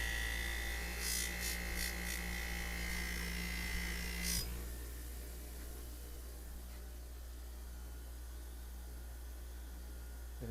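A Scotch-Brite deburring wheel polishes a metal surface, giving a faint, steady whirring hiss with a brief higher-pitched whine in the first seconds before settling into a quieter constant rasp.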